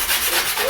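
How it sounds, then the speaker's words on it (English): Sandpaper rubs against wood in steady, brisk back-and-forth scratching strokes while a harp is being built at home, close up and fairly loud, with no talk. "Sandpaper when you rub it."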